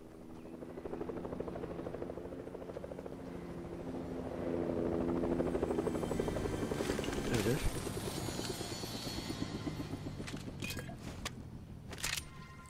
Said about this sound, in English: Oh, yeah, helicopter.